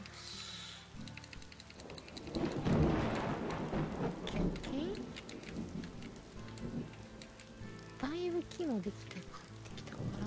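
Steady rain and rolling thunder in a colony-building video game, heard as continuous patter with low rumbles, mixed with game ticks and chimes while people talk over it.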